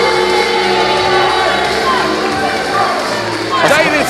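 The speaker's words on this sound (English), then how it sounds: "David Francisco gets the ire of this crowd." A wrestling crowd at an FPW Trick Or Treat show jeers David Francisco with a steady, loud roar of voices, and shouts and whoops rise near the end.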